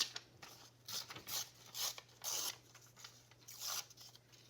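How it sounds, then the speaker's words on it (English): Paper edges are torn by hand for junk journal cards in a series of short ripping bursts, about six close, crisp tears with brief pauses between them. "I'm just going to tear the edges real quick."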